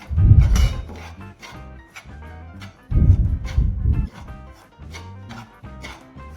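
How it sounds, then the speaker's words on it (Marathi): Semolina being stirred in a pan with a spatula while it roasts for rava laddu, heard as repeated scraping strokes in a loose rhythm, close and fairly loud, with no talking. "हलकासा आपल्याला हा रवा कलर चेंज होईपर्यंत थोडासा आपल्याला उलताण्याने हलवायचा आहे"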